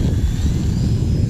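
An E-flite Timber Turbo radio-controlled plane flies overhead in wind, a brief buzzing motor whine over gusty low rumble.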